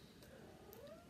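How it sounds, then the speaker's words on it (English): A mother cat meows softly to her kittens, one drawn-out rising meow, faint and close in a quiet room with no talk. "It's my cat still talking to her kittens,"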